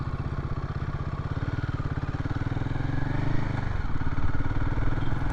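A Royal Enfield Himalayan 450 motorcycle underway on the road, a steady throbbing engine beat with pulsing exhaust that swells slightly louder toward the end, heard without talk.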